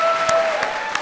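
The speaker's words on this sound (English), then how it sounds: "Let's give them a big round of applause." An audience applauds recipients of the 2014 Presidential Medal of Freedom, steady clapping throughout a short burst with a few sharper individual claps standing out.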